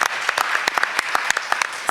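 An audience claps steadily and briskly at an arts organization event, with dense overlapping hand claps and a few sharper individual claps standing out, no voices on top.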